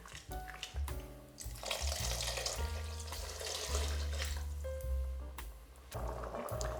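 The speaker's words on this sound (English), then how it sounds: "I'm also going to add some water. This is water I use to rinse the tin of the cherry tomatoes" Water used to rinse a tin of cherry tomatoes is poured into a seafood lasagna sauce, heard as close gurgling, splashing liquid in bursts with brief pauses, alone and without talk.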